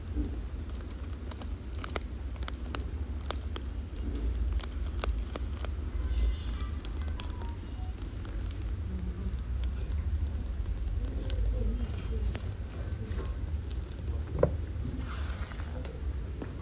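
Quick tapping and scratching on plastic-covered books in a bookstore: a steady run of light, close clicks and scrapes over soft background room noise.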